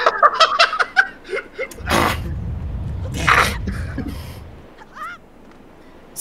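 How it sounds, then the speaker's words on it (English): A character in The Legend of Zelda: The Wind Waker gives out a strangled, honking, choking-like vocal noise. It comes in a few loud sputtering bursts over a low rumble, with chirpy game sounds at the start and end. "Why do you sound like you're choking?"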